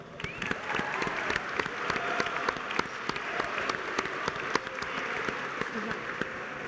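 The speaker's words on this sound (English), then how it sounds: "Let's have a round of applause." Sustained applause from an audience at a university athletics awards ceremony, steady dense clapping with a few cheers mixed in, filling the room throughout.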